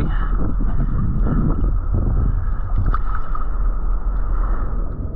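Steady wind roars and buffets a microphone outdoors near a surf spot on Lombok, a continuous low rumble with gusty swells and faint sloshing water underneath.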